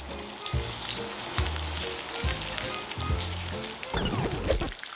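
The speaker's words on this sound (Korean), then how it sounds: "기름에다가 삶듯이 넣고 이렇게 안 붙게 띄워주면 됩니다" Gochu japchae ingredients fry in a pan of hot oil, a steady broadband sizzle and crackle filling the whole stretch, with low rhythmic bumps of stirring or pan movement and a burst of sharper spattering near the end.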